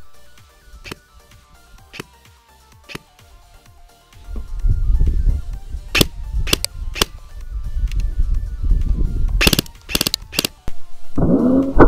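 Airsoft BBs firing at about 400 FPS and striking mesh and polycarbonate eye protection lenses, sharp isolated cracks and clicks, then a denser rattling burst of rapid shots and impacts over mechanical noise.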